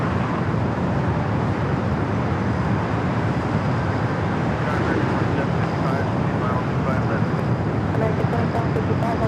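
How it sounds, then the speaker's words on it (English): American Airlines Boeing 777 taking off at LAX: a steady, loud broadband jet roar that holds constant throughout, with a continuous rumbling wash and no clear build or fade. "The American 777 heading down for Southside at takeoffs"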